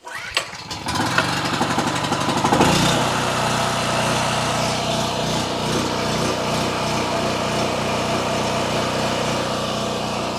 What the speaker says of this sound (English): I've had that generator for years and years and years, and it's always been so stinking reliable. But man, it's loud.